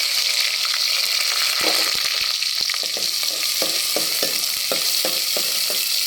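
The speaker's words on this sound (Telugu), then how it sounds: "మూడు ఆనియన్స్ తీసుకున్నాను పెద్దవి." Three large onions fry in hot oil, a loud, steady sizzle running throughout with a series of quick scraping stirs and taps partway through, and no voices.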